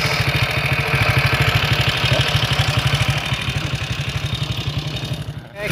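A motorcycle engine on a steep hill climb runs loud and close, throbbing steadily with a rapid, even firing pulse that dips briefly near the end.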